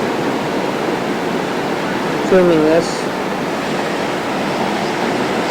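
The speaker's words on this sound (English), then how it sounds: "You hear the waves." Ocean waves roll onto a beach beside a pier on an evening as the tide comes in, heard from a sixth-floor hotel room as a steady broadband wash; someone speaks briefly over it.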